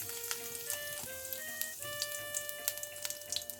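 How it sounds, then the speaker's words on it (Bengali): Nigella seeds tempering in hot oil make a faint crackling sizzle with scattered tiny pops, quiet and close, while a soft tonal melody plays underneath. "দিচ্ছি একটু কালো জিরে ফোড়ন"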